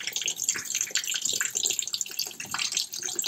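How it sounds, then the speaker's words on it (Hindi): Water pours steadily into the tub of an LG 9 kg semi-automatic top-loading washing machine, a continuous close splashing gush with no talking. "सबसे पहले हम इसमें पानी डाल रहे हैं, हमको इसको पानी से पूरा भरना है"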